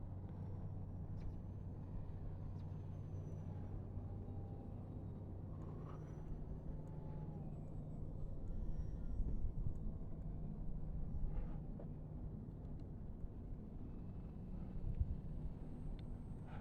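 An FMS F4U-4 Corsair 800mm electric RC model plane with a Reflex V3 gyro, its motor held at about 70% throttle and then ramped up. The low whirring rumble stays fairly faint and swells slightly midway.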